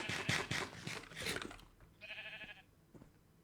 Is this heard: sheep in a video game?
yes